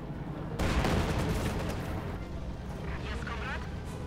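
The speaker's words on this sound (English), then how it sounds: "mortar rounds going down there." Mortar rounds firing and exploding in the Company of Heroes 2 strategy game, a heavy booming burst followed by sustained rumbling battle noise under a commentator's voice.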